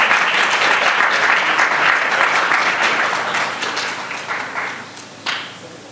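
Audience applause at a business summit on insurance, loud and sustained from a crowd, gradually thinning out toward the end with a final burst of a few claps.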